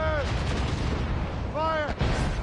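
Ship cannons boom in the naval combat of Assassin's Creed Rogue, several deep blasts over constant wind and sea noise, with shouted voices between them.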